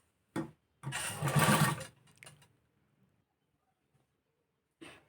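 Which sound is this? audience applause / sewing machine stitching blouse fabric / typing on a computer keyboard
sewing machine stitching blouse fabric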